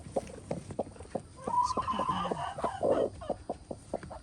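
A hen sitting on duck eggs in a coop clucks nearby in short, rhythmic bursts, breaking into a longer drawn-out call midway before returning to steady soft clucks.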